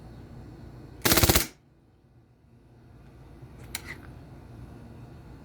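A Crosman P1 air pistol firing on full auto, one brief rapid burst of about half a second, loud and close, followed by near silence and a faint click.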